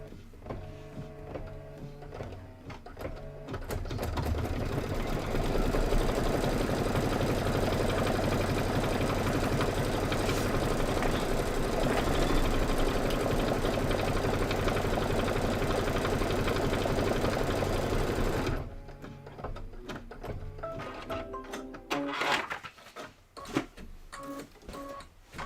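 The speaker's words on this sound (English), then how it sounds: "Just going to stitch it down." A sewing machine stitches fabric for about fifteen seconds at a steady, fast whirring pace, loud and close, with quiet handling clicks and fabric rustles before and after.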